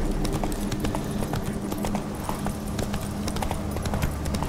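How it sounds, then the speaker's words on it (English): A horse gallops with rapid clip-clop hooves in the fantasy video game The Witcher 3: Wild Hunt on PC, steady and close, blended with continuous game ambience and music. "Whoa there, Roach!"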